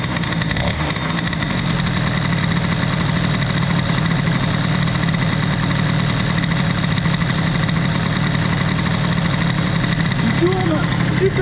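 A small Metrakit 70cc two-stroke engine idles steadily, a constant buzzing rattle that stays loud and unchanging throughout.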